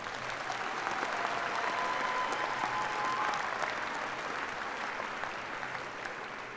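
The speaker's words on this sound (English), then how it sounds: "Would you join me in thanking Will, Katie, and Nathan with a round of applause?" Sustained applause from a large audience at a university spring commencement ceremony, a steady dense wash of clapping holding for several seconds before easing slightly.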